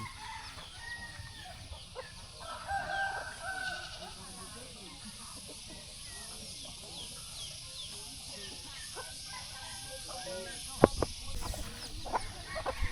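Chickens and a rooster in a Lao village, with faint clucking and crowing scattered across a busy rural backdrop of animal and people sounds, mostly distant, plus a sharp brief knock near the end.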